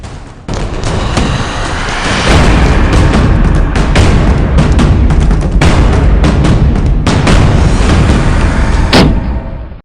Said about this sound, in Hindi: पाकिस्तान के निशानेबाजों ने फायरिंग शुरू की